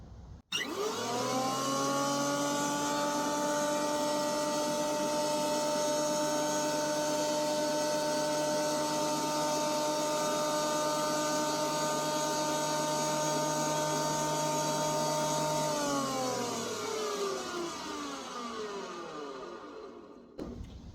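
A Titan thicknesser planer feeds a board through in one loud, steady pass, its motor whine holding a constant pitch, then winding down as the board clears near the end.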